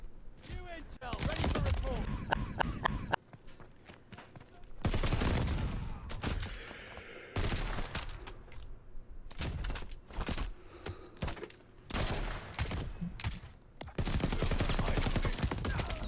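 Rapid bursts of video game gunfire during a gunfight, repeated volleys separated by brief pauses across the span, with someone talking intermittently over the shooting.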